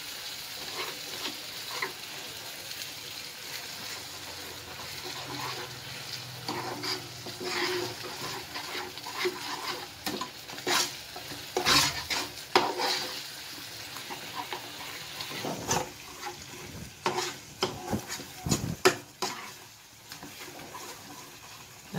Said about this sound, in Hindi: अब इसमें हम एक कप जो दूध लिया था वो धीरे धीरे करके हिलाते हुए डालेंगे